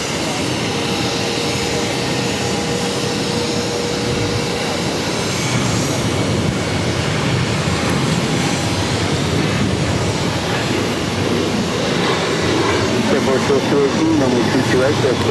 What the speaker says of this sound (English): This is United Airlines 352 taking off to Chicago O'Hare on a 737-800